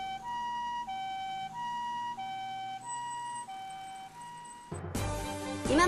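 A Japanese ambulance siren in Gifu City wails in a steady two-tone pattern, loud and close, then breaks into a louder burst of broadband noise near the end.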